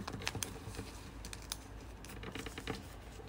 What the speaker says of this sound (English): So you just fold it. And you need to fold this one.